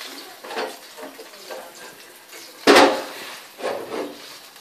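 Beef meat and heart tossed into a pan of cooked spice paste for krengsengan and stirred, soft scraping strokes with one sharper clatter as the meat drops in, close and moderate.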